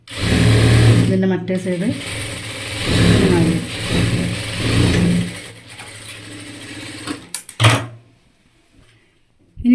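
A sewing machine stitches a prayer dress (jilbab) in loud, close runs that speed up and slow down. Someone talks over the motor. The machine stops near the end, leaving a few brief clicks and then quiet.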